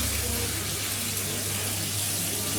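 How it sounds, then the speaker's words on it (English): Cooked spaghetti being drained, water pouring off in a steady, close rushing stream that runs continuously without a break. "I'm going to drain the spaghetti"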